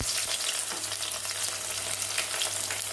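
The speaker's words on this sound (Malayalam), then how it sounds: "ഇനി ഇതാ ഒരു 8-10 ചെറിയ ഉള്ളി നീളത്തിൽ മുറിച്ച് വെച്ചിട്ടുണ്ട്, അത് ഊരിട്ട് കൊടുക്കാം." Eight to ten small shallots, sliced lengthwise, fry in a pan for a backwater fish curry, giving a steady, close hiss of sizzling oil with soft stirring throughout and no talking.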